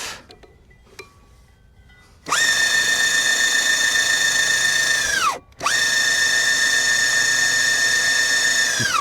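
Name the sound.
belt drive electric skateboard motor running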